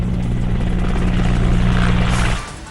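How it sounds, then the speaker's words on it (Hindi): Helicopter hovering low over a hospital in Ahmedabad while flowers are showered from it, a loud steady rotor drone with strong low throbbing that drops off sharply near the end, no voices. "अहमदाबाद में भी हॉस्पिटल पर हेलीकॉप्टर से बरसाए गए फूल"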